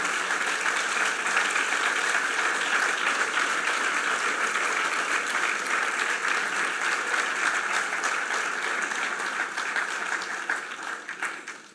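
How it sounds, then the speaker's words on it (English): Sustained, dense applause from a large audience at a 30th anniversary celebration event, steady and loud throughout before tapering off at the very end. "J'aimerais qu'ils se lèvent et que vous puissiez les applaudir."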